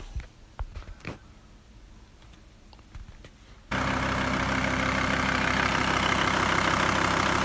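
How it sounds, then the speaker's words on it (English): A VW T4 van engine idles steadily just after an oil change, a constant loud hum filling the second half after a quieter stretch with scattered knocks and clicks. "The engine's been running for about 15 minutes"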